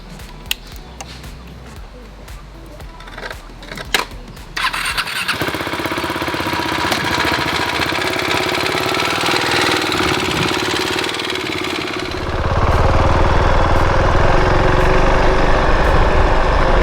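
A 2020 Husqvarna Vitpilen 701's big 700 cc single-cylinder engine idles, then revs up, growing louder and rougher toward the end, with a brief squeal of mechanical noise.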